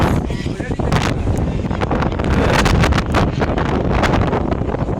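Strong gusts during Cyclone Remal buffet the microphone with loud, continuous roaring and rumbling, with sand blowing and trees thrashing nearby. A voice speaks now and then under the wind.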